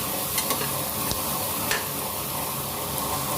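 Five cut onions sauté in hot oil with cinnamon and fennel for chicken biryani, giving a continuous close sizzle with faint clicks of stirring throughout.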